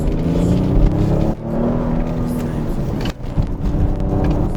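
A Genesis GV80 SUV with a 3.5 turbo petrol engine accelerates hard in sport mode, its engine drone and road roar filling the cabin with brief dips as it pulls.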